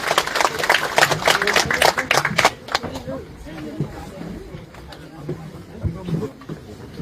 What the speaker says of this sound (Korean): 여러분 다시 한번 우리 뜨거운 박수 보내주시기 바랍니다